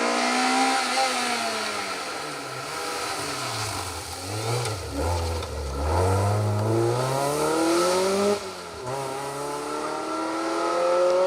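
A Peugeot 206 rally car on an asphalt rally stage revs and shifts through gears as it passes, its engine note rising and falling loudly with a brief lift near the end.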